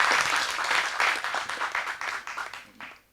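Applause from the audience at a Tamil film audio launch press meet, strong steady clapping that thins out and fades away toward the end.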